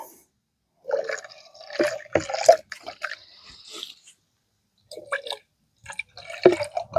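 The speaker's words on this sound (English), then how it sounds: "I'm going to try to wash some of this out real quick." Water splashing and dripping over a Jetboil stove screen while it's rinsed outdoors at a camp shelter, coming in short irregular bursts with gaps of silence between.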